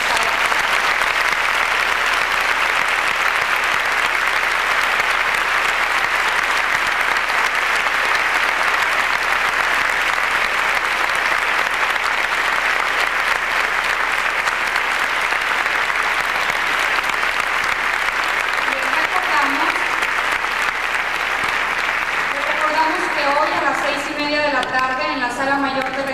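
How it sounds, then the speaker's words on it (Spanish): Sustained audience applause thanking architect Ricardo Legorreta at the close of his Cátedra Luis Barragán lecture, a dense, steady roar of many hands clapping at full level for the whole stretch, thinning slightly near the end. "con este aplauso agradecemos el que haya estado"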